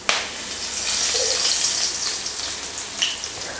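A loud, steady crackling sizzle of curry leaves and fenugreek seeds hitting hot oil, close by, with a brief sharp pop at the start.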